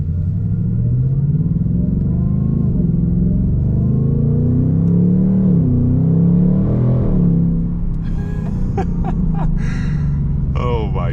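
A 2024 Ford Mustang RTR Spec 3 is driven in manual mode with the paddle shifters, its engine giving a steady loud rumble that rises and falls as it accelerates through the gears. Some brief clicks and knocks come near the end.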